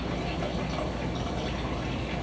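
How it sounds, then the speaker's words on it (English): Wine poured through an aerator pourer spout that forces air into it, giving a soft, steady gurgling and bubbling flow, faint and continuous without speech. "as I pour this, you'll see bubbles in the top of the wine"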